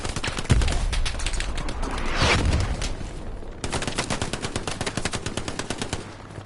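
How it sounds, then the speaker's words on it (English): A full magazine sprayed from a rapid-firing automatic weapon in Hell Let Loose, a loud continuous stream of gunshots with a brief break before the rattling fire resumes. "he sprays an entire mag down that trench line, does not get a single kill"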